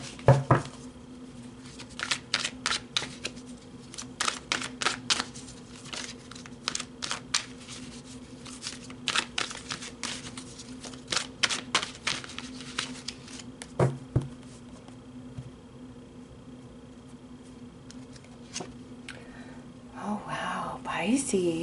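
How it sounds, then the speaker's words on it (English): Tarot cards are shuffled and pulled in a long run of crisp, irregular card flicks and snaps, close and fairly loud, with a soft voice at times. "Let's pull some more cards and go deeper."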